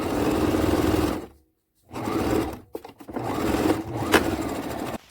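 A sewing machine runs in two steady bursts while stitching a quilt pillow case made from old clothing and a blanket, close and fairly loud. A short silent gap separates the bursts, and a quieter, stop-start stretch follows.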